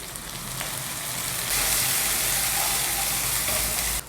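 Chopped onion and tomatoes frying in a pan, a steady hiss that grows louder and busier partway through, then drops back at the end, no voices.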